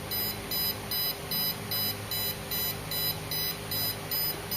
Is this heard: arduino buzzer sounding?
yes